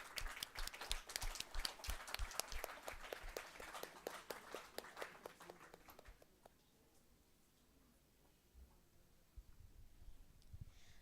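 Applause from an audience at a book launch for a young author's novel, dense clapping that grows loud and then thins out, with scattered claps and faint murmurs afterward.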